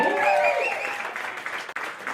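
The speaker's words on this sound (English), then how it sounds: "Have a round of applause for Siobhan Richardson and Chelsea Johnson," Applause from an audience at a live show opening in a diner, a dense burst of clapping with cheering voices that stays loud for about two seconds.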